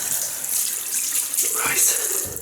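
Cold water pours steadily from a tap into a sink for a couple of seconds during a shave, a close, continuous splashing hiss.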